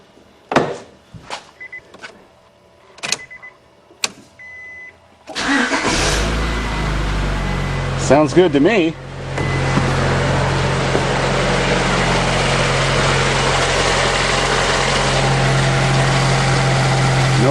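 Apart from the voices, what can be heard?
Honda Accord VTEC engine starting and idling after timing belt change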